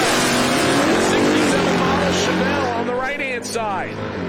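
A drag race pass between a 1967 Chevelle and a 1995 Ford Mustang: loud, continuous engine roar that shifts pitch as the cars run, with a commentator talking over it.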